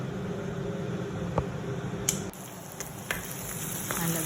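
Crushed garlic, ginger, green chilli and shallots fry quietly in hot oil after mustard seeds have popped. The soft, steady sizzle is broken by a few sharp clicks and clatters.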